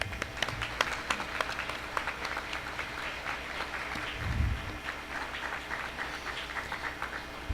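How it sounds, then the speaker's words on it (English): Applause from a school board meeting audience honoring student groups, a steady wash of clapping at moderate distance with a brief low thump midway. "Let's give them applause"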